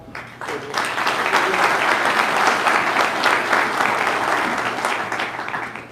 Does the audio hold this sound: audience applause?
yes